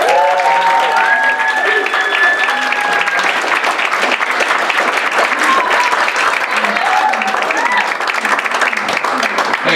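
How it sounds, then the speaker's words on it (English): A comedy club audience at Absolute Comedy breaks into loud, sustained applause and cheering as a stand-up comedian is welcomed to the stage, with shouts and whoops mixed into the clapping. "please put your hands together and welcome"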